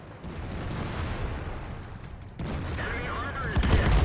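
Artillery round hitting a tank in World of Tanks, a burst of loud gunfire-like blasts and rumbling impacts crowding together, with a voice talking over the din.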